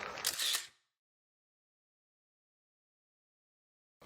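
A camera shutter fires during macro focus stacking in natural light, a quick close burst of mechanical clicks in under a second, followed by silence and a brief final sound at the end.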